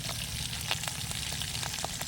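Steady oil sizzle of beef frying, with a continuous crackling hiss and scattered pops throughout, fairly close.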